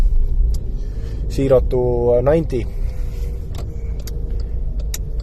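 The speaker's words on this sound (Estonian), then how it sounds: "ma lasen teil kuulata auto real soundi" Škoda car at a ferry harbour, its engine running in a steady low rumble throughout, with a brief rising-and-falling tonal whine near the middle and a person speaking briefly over it.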